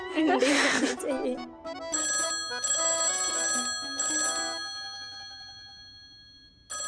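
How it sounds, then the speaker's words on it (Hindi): A telephone bell rings in repeated bursts, loud and close, with a person talking briefly at the start before the rings take over. "जाके फोन उठाना"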